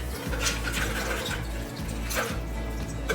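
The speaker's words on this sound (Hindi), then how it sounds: "अब हम इसमें ऐड करते हैं आइस वाला ठंडा पानी" Ice-cold water poured into strained lemon juice for a lemon Rooh Afza drink, a steady, close splashing pour running unbroken with a faint mechanical clink.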